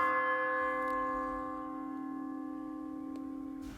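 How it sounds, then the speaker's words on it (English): A clock bell tolls once as a stage sound effect in a school production of A Christmas Carol, a single strong ringing strike with a long, steady humming decay that fades slowly, heard alone without voices. "I shall have a visitor when the clock tolls 1"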